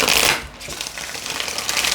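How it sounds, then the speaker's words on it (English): A deck of tarot cards being shuffled by hand, a close, loud riffling flutter that starts with a sharp burst, dips briefly, then carries on as a steady papery patter. "Last shuffle."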